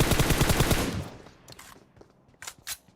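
Automatic gunfire in PUBG Mobile: a loud, rapid burst of shots that cuts off after about a second, followed by quieter scattered footsteps and a couple of sharp clicks.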